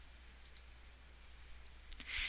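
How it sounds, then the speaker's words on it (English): A computer mouse gives a few faint, sharp right-clicks in a quiet room, spaced out, with a slightly louder click cluster near the end. "And then by right mouse clicking,"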